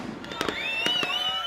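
Fireworks bursting in an advert for Superior Fireworks, a few sharp cracks and pops followed by rising whistling tones that glide and sustain under music-like background, moderately loud.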